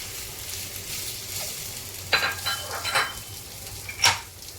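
Potatoes hit hot oil for a Punjabi patti samosa filling, giving a steady sizzle with several sharper bursts of scraping and stirring against the pan, close and moderately loud.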